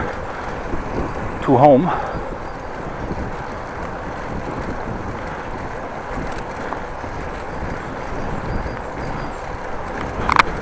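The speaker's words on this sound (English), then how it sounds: "By the way, it's windy today," Gusty wind buffets the microphone during a bike ride through Groningen streets on a cold day, a constant rough rumble with brief louder bursts, while someone speaks briefly over it.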